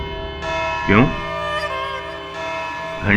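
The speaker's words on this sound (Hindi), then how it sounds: "घंटी बज गई?" A bell rings in a courtroom during a TV courtroom drama, a steady sustained tone holding for several seconds while a voice briefly sounds over it.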